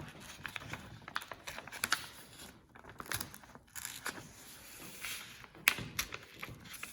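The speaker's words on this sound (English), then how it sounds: "So I'm going to poke through each hole with a slightly sharper pencil." A pencil poking through the holes of a paper sewing pattern, a run of close, quiet irregular taps, punctures and crinkles of paper, like light typing.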